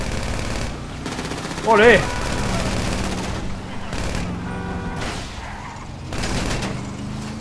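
Gunfire in the video game GTA Online during a car chase: a burst of rapid shots rises briefly over a steady engine and game backdrop, with excited voices talking and cheering around it.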